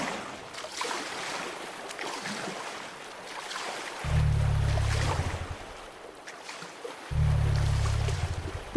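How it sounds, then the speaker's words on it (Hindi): A wooden boat crosses a river in an animated story, with a steady wash of water and wind, plus two low droning swells that rise and fall. No voices are heard. "भोला बुढ़िया को अपने नाव पर बैठाकर नदी के पार चल पड़ता"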